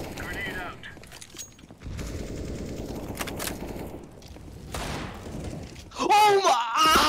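Gunfire and explosions in the video game Counter-Strike (CSGO), dense bursts of shots and blasts with metallic weapon handling and game sounds, loud and continuous, with a voice speaking over part of it.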